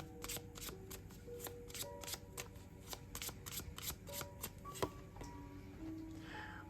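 Oracle cards being shuffled by hand, a steady run of soft papery riffles and flicks with faint background tone, no talking.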